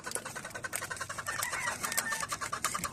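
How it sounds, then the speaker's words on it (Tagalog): Busy clucking and scratchy chatter from a nearby chicken, fairly faint, over a rustling background. "Ito yung buhay na manok ko."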